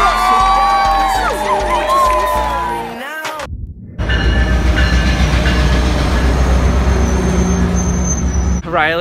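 A steady low rumble of a moving train carriage with rhythmic rail noise, preceded by a few seconds of music, with faint voices underneath.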